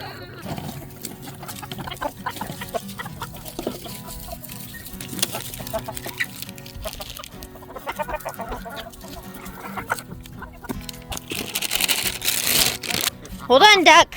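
Free-range chickens on a hobby farm cluck and chatter steadily near the recorder, with a person talking over the flock throughout and a louder burst of activity toward the end.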